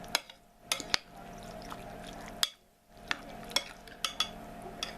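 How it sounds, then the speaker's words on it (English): A potato and ham mixture for a cheese bake being stirred in a bowl, with a steady wet scraping broken by sharp clinks of the utensil against the dish, close by with no talking. "Okay, we're going to mix this together."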